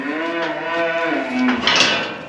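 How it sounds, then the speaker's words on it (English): Cattle in a shed give a long, loud, close moo that bends down in pitch and then swells again, filling the whole stretch with no talking. "So this entire side of the shed, minus the bull, are all the same cows."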